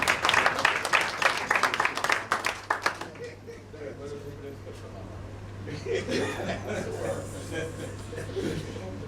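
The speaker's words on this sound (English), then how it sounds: "And I'll ask everybody to give him a round of applause." Audience applause at an installation ceremony, a round of clapping from a crowded room that thins out after a few seconds into scattered murmurs and a steady low hum, with voices and chuckles underneath.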